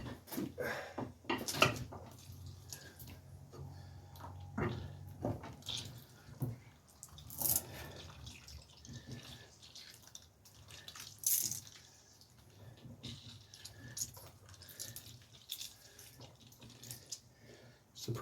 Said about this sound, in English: squirting the juice out to the holes rather than it dropping down